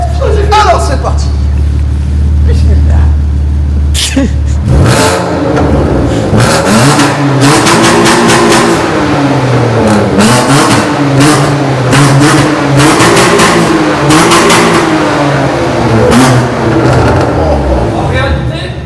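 A sports car engine revs loudly up close, bursting in after a few seconds of low idle and rising and falling repeatedly, with voices talking underneath.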